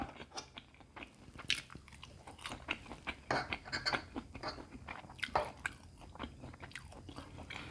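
Someone eats khanom jeen rice noodles in Lao-style curry sauce with lots of vegetables, heard close up as soft, irregular biting, crunching and chewing that stays quiet, with no talk.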